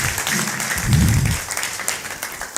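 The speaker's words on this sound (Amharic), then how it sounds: "አጨብጭቡ እስቲ ለአምላካችን ለእግዚአብሔር።" A church congregation claps together in a dense, sustained wash of applause that swells slightly and then eases off.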